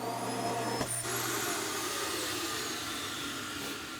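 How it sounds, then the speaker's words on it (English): A built-in floor vacuum system in a 2026 Forest River R-Pod RP-171 travel trailer runs continuously with a steady whirring drone, fairly close, and a brief high whine near the start. "and in the ground we have our vacuum system."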